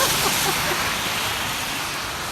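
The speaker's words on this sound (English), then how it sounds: "So it's clearly raining." Rain falls steadily around a bus shelter, a dense, even hiss of drops with no breaks, close and fairly loud, with faint voices at the start.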